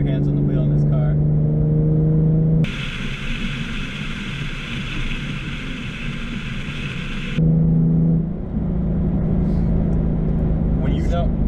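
A Nissan 370Z engine revs as it shifts gears through paddle shifters, a steady droning pull with a brief change in pitch between gears, heard from inside the car beneath ongoing talk.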